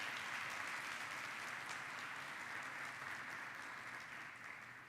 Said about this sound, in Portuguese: Dá um aplauso ao Jesus bem forte.